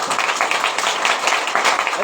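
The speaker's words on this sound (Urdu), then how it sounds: "زوردار تالی بجائیں" A church congregation clapping loudly, dense continuous applause filling the room with an uneven rhythm, close and strong, with voices mixed in.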